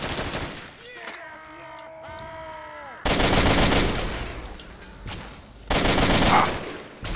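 Bursts of automatic gunfire in Fallout 3 crackle loudly in two heavy volleys, following a stretch of tonal game sounds at the start, with no speech over them.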